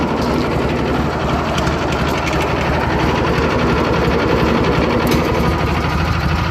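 A Craftsman GT6000 lawn tractor engine idling down, a steady close mechanical drone with a fast even rattling pulse that holds constant throughout, with no voices over it.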